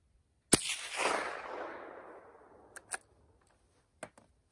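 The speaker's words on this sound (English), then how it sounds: "Now we're going to run the K configuration with supersonic rounds." A single sharp, loud shot from a rifle fitted with a Rugged Oculus suppressor in its K configuration, firing supersonic rounds outdoors; the crack rings out and fades slowly, followed by a few faint mechanical clicks.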